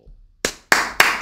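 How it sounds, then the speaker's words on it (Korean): A few sharp, close hand claps ring out in a classroom after a brief quiet stretch, three distinct claps spaced roughly a quarter second apart. "박수"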